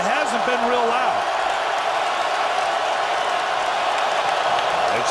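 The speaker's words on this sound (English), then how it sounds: "today I don't know that it's because of crowd noise. It's cranking up now" Steady roar of a stadium crowd at a Falcons at Lions NFL football game, a loud continuous wash of voices throughout, with a brief voice or whistle-like tone early on.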